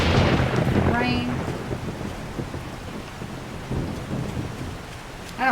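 Steady rain and rumbling thunder in the survival game 7 Days to Die, a dense hiss of rainfall with low, rolling thunder and occasional gusts filling the scene, with no voices.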